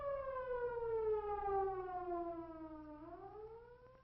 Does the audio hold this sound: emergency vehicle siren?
yes